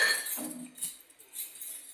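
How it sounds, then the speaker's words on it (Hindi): A griddle pan and utensils being washed in a home kitchen: light metallic clinks and scraping with splashy hiss, close and fairly quiet. "बस दोस्तों मैं ये तवा और ये स्टैंड वगैरह सुबह ही धुलती हूँ"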